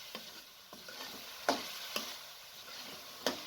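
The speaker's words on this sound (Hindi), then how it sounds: "अब आपने इसके अंदर 2 बड़े साइज़ के आलू काट के इस तरीके से डाल देने हैं और 1 से 2 अदर सब्ज़ मिर्चें" Two large cut potatoes and green chillies fry in a pan for an aloo palak curry, with a soft steady sizzle broken by a few sharp stirring clinks, close and alone.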